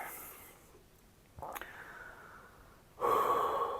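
Slow, quiet breaths taken while sitting during a breathing exercise, with soft airy exhales and a fuller breath near the end against a hushed room.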